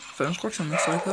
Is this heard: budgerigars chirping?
no